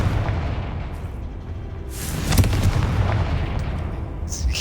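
Confringo spell blasts in Hogwarts Legacy burst with a sharp explosive crack and rumbling boom about midway, over low ambient game noise, followed by further bursting effects.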